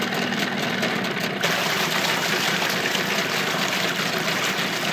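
Mercury 25hp outboard motor running steadily after being shifted into forward, a continuous close engine drone with a slight change in tone a little over a second in.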